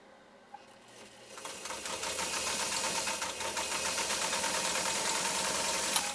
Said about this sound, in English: Let's see how his 192K, his Singer Spartan, does with 8 layers of U.S. Army grade canvas